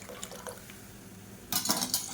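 Dissolved lentil dal water poured into a pot of rasam, a short liquid splash and gurgle after a few faint kitchen clinks, heard close and fairly quiet.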